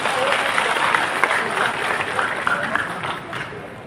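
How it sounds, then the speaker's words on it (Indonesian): Applause from a crowd of volunteers at a Prabowo–Gibran campaign rally in Bali, a dense, steady wash of clapping that holds for four seconds and eases slightly at the end, with voices mixed into it. "Tepuk tangan untuk kita semua."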